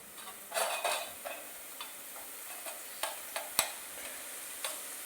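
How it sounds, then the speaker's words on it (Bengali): A spatula stirs a cauliflower spice paste frying in oil in a pan, with soft sizzling and a run of scraping strokes and light clicks, a few sharper taps standing out, close and fairly quiet with no talking. "তো ভালো করে নেড়ে চেড়ে ভেজে নিতে হবে এই বাটাটা"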